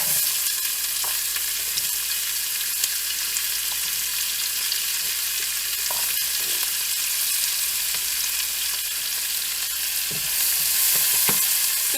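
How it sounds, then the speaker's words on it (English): Onion frying in a pot after bacon has been removed, a steady soft sizzle with occasional stirring scrapes, continuous and close with no talking. "Now you just want to cook the onion until it's translucent."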